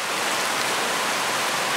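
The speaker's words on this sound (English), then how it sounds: "It's starting to rain." Steady rain falls on a hiking trail, a dense, even hiss that holds at constant loudness for the whole stretch, with no voices.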